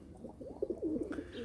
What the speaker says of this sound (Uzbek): Kaptarlar gap yo'q, o'ynab uchadi